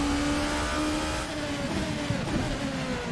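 A VRC ByCollin P1 prototype race car in Assetto Corsa during the 4 Hours of Daytona drones steadily nearby, its engine pitch rising and falling as it shifts and accelerates.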